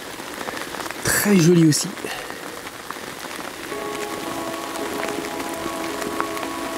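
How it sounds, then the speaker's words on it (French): Heavy rain falls on a lake in a steady, dense hiss throughout, with a person speaking briefly in French early on and a faint tonal hum appearing later. "de se foutre le cul sous la pluie battante"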